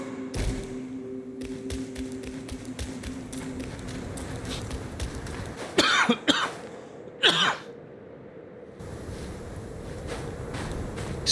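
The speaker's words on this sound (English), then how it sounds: "Excuse me, I had to cough." Two sharp, close coughs burst out a second apart over continuous video game sounds with a low background hum.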